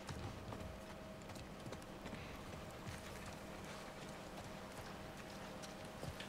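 Horse hooves clip-clop steadily in The Last of Us, a quiet, continuous patter of footfalls mixed into a low ambient game soundscape with no voices over it.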